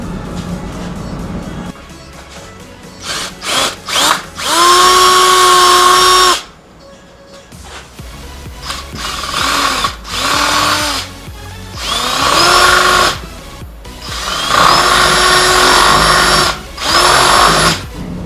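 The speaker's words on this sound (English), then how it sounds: "using your drill and your 3/8 inch drill bit," A power drill with a 3/8-inch bit whines in repeated bursts, drilling holes in a Traxxas X-Maxx RC truck bumper, starting and stopping several times, loud and close, with short pauses between runs.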